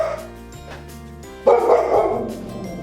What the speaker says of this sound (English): that's the dog. That's right.